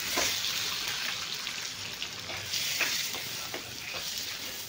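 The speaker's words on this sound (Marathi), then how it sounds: "छान फ्राय करायचे आपल्याला अंडे" Eggs frying in a pan of oil with chili and turmeric, a soft steady sizzle with scattered crackles and light stirring taps, fairly quiet and close.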